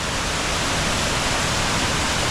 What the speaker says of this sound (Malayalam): ചെറിയ വെള്ളച്ചാട്ടങ്ങൾ കാണാൻ ഒരു പ്രത്യേക ഭംഗിയല്ലേ